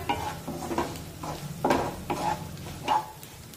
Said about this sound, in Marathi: यामध्ये अर्धा चमचा हळद टाकूया, मिक्स करून घेऊया।